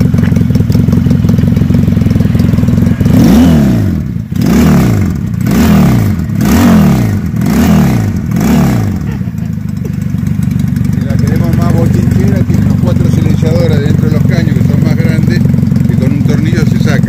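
A Zanella Patagonian 350 motorcycle with a sidecar idles steadily, then revs sharply about five times in quick succession before settling back to a loud, even idle, recorded close up.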